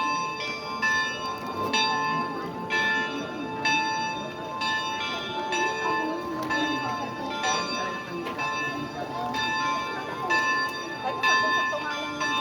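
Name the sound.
church bell ringing before mass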